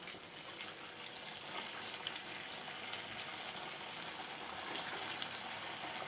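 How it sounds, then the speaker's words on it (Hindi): Pakoda rolls deep-fry in hot oil with a soft, continuous sizzle and scattered faint pops, steady and fairly quiet throughout. "तो जी साथ साथ यहाँ पर फ्राई भी हो रहे हैं"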